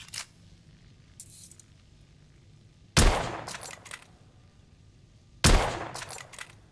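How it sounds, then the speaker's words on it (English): Gunshots in The Order: 1886 video game: two sharp, loud blasts a few seconds apart, each with a short crackling tail and ringing echo, over a quiet background with a faint earlier report. "Good shot. Recoil is sharp, but manageable."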